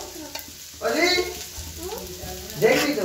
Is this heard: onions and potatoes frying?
yes